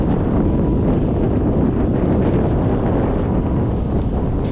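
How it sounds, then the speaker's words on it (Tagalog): Strong wind roars constantly across the microphone on open water by a dam during a fishing outing, a loud, unbroken buffeting rumble with no other sounds standing out. "Lakas ng hangin dito"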